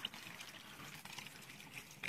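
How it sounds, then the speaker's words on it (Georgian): Wastewater runs down from a sewer pipe into a septic system, a faint, steady trickle and splash of flowing water, heard alone at low level. "კანალიზაციიდან ჩამომავალი წყალი."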